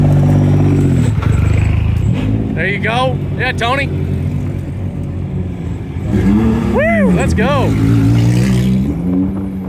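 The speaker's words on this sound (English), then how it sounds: "Here's some TT Unlimited cars." Race car engines rev and roar loudly as time-attack cars accelerate past one after another at a speed festival, while people cheer and shout nearby.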